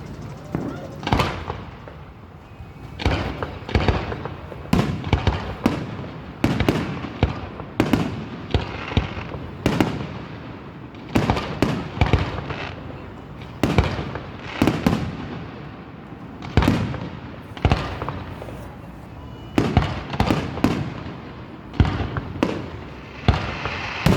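Fireworks at a 2021 show in Exeter, California burst in a rapid, irregular barrage of loud booms and crackling reports, some close and sharp, others overlapping, continuing throughout with brief gaps between volleys.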